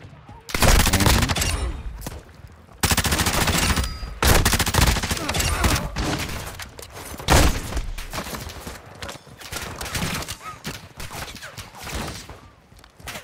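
Bursts of automatic gunfire from a Call of Duty match against bots, loud rapid volleys coming in clusters with short gaps between them, and a player talking intermittently.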